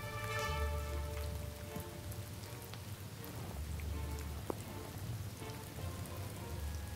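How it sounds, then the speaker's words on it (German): Steady rain patters continuously on a surface, dense and even, with scattered individual drops ticking through the soft wash. "Oben prasselte jetzt der Regen nieder."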